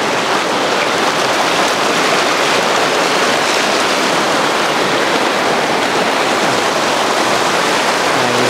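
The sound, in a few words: stream water rushing down creek bed after flooding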